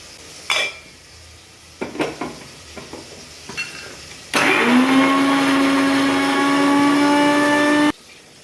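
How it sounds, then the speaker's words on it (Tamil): A mixer grinder blends ginger and garlic into paste for a Tirunelveli-style mutton dish, starting with a few clatters and short bursts, then a loud, steady high whine running for several seconds before cutting off. "இப்போ இஞ்சி பூண்டு இந்த 2 தான் அரைக்க போகிறேன்."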